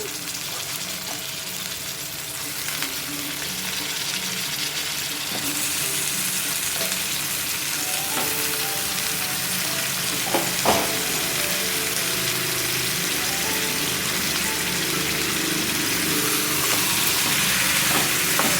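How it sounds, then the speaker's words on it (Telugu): Chicken pieces frying with onions in a pan for a spicy chicken curry, a steady loud sizzle that holds throughout, with occasional clinks and stirring noises. "ఉల్లిపాయలు ఇలా వేగాక దీనిలోకి ముందుగా కడిగి పక్కన పెట్టుకున్న చికెన్ వేసుకోవాలి"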